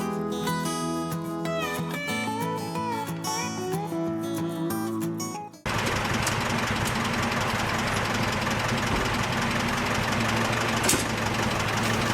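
A brief musical passage cuts off, then a 1948 Chevrolet Loadmaster 2-ton truck engine idles with a steady low rumble and rhythmic knocking that continues to the end.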